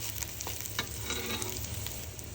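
Ginger and onion frying in oil for beef biryani, a steady sizzle with intermittent scraping clicks of a spoon stirring in the pan, close and continuous with no talking.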